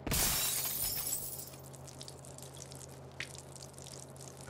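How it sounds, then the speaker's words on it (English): Bottles of chemicals shattering on a floor in the video game South Park: The Fractured But Whole: one loud crash of breaking glass, then faint tinkling and dripping fading over a low hum. "I hope those weren't the toxic chemicals I was just talking about that broke on the floor just now."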